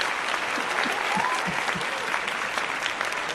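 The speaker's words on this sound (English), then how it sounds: "give POWERTEAM CEO Kesha just a hand and a round of applause for her" Steady applause from a crowd, sustained and fairly even throughout, with faint voices mixed in, as a podcast host is cheered on.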